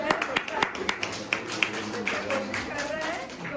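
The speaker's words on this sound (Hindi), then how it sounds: "तो थोड़ा जोर से ताली बजाएं।" An audience claps at a Christian Sunday school event, scattered sharp claps rising and fading over a murmur of talk and a speaking voice.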